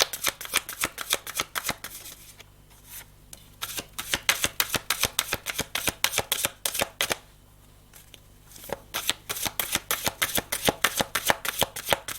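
Playing cards being shuffled in rapid bursts of crisp riffling clatter, close and loud, with two brief pauses between runs and no talking.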